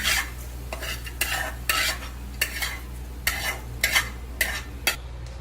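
Ingredients being lightly roasted in a little oil in a pan, stirred with a utensil: a steady run of about nine scraping, rustling strokes at a regular pace, close and moderately loud over a low constant hum, with no talking.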